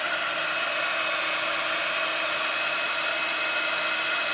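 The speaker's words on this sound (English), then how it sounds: "I'm going to use a heat gun just to stop it going too fast." A heat gun blows hot air to dry alcohol ink on a craft painting, giving a constant, even whooshing hiss that holds steady and close throughout with no talking.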